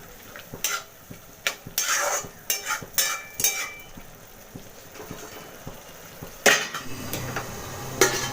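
Metal clanks and clatters from a pot of bottle gourd curry as its lid is set on, several sharp knocks at uneven intervals, fairly close, with no talking.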